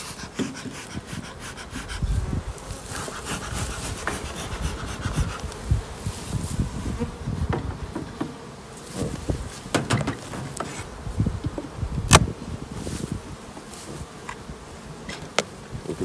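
A dense, steady buzz of many honeybees at an opened hive fills the scene close by, with occasional louder passes and soft rustling underneath; the colony is being smoked.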